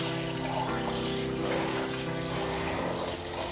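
Running water rinses a HARIO Switch immersion coffee dripper (SSD-200-B) in a kitchen sink, a steady continuous splash and trickle close by with no talking.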